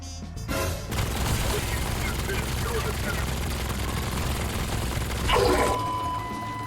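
Rapid SMG fire in Black Ops 7 Zombies rattles steadily and loudly throughout, with a heavy armored zombie being shot down and a brief louder swell near the end.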